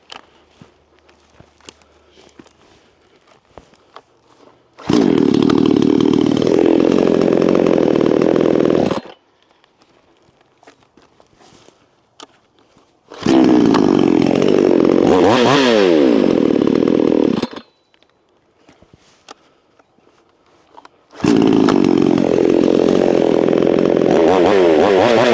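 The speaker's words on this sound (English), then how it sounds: "so it's a generic chainsaw. This one is a 5800, and it actually works really, really well." A generic 20-inch 58cc Chinese chainsaw roars in three loud bursts of several seconds each, separated by quiet gaps of faint idling and outdoor background.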